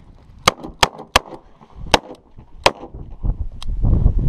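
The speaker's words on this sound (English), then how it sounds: "I've got a gun that is more pleasant and more enjoyable to shoot here in the 640." A Smith & Wesson 640 revolver fires six sharp, loud shots at uneven intervals, followed by rising rustling and handling noise.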